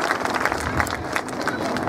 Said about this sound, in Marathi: त्यांच्यासाठी आपण सर्वजणांनी टाळ्या वाजवूया.